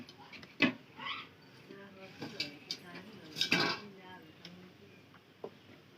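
A lid clanks onto a cooking pot of goat meat, a couple of metallic knocks and a scraping rattle amid light kitchen clatter, with a person talking over it.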